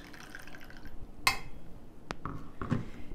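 A metal pot filled with water holding a glass jar knocks onto a stovetop in a kitchen, giving a few close, sharp clinks and a light watery slosh over quiet background.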